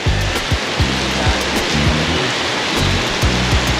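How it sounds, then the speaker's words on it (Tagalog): Heavy rain at a flooded pet market roars in a dense, constant wash, with dull low thumps scattered through the downpour. "Ang lakas ng ulan"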